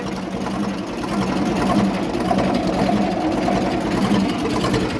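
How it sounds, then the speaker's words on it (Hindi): An older Eicher tractor idles steadily at 700 RPM with a 7-foot rotavator attached, its levers down, giving a loud, continuous low diesel rumble and chug that holds constant throughout, close up, with no talking. "700 आरपीएम पे ट्रैक्टर चल रहा है।"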